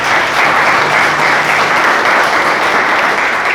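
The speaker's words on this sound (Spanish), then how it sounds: "¿Cuánto le dan un aplauso a Dios?" A church congregation claps loudly and steadily, with dense applause filling the room for several seconds and only slight voices beneath it.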